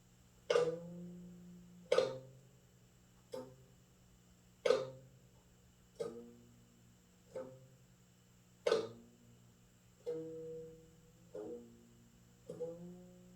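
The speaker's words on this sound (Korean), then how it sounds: "지금 들으시는 악기 소리는 검은 고 소리입니다." A deep plucked geomungo zither gives a slow series of struck notes, about a dozen, each a dry snap followed by a short resonant tail, quiet and unaccompanied.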